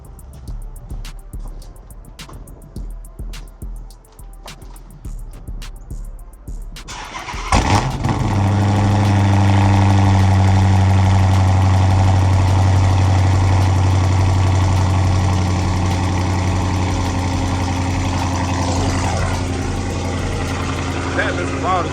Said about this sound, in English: I'm about to give y'all boys a cold start.